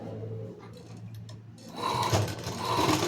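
A sewing machine stitching along a blouse collar, first a quiet ticking hum, then a louder steady whirring run of rapid stitches near the end, close by with no speech.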